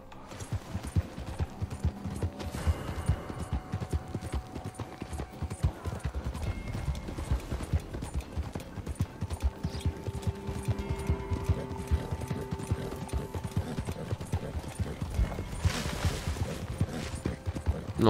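Steady clip-clop of horse hooves in Red Dead Redemption 2 trots along at an even rhythm for a long stretch, with faint background sounds and no talking.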